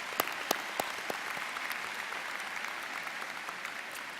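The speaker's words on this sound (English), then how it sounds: "join me in a round of applause to congratulate ourselves" Graduates and guests at a university business school commencement clap in a soft, distant round of applause, with a few sharper nearby claps standing out near the start.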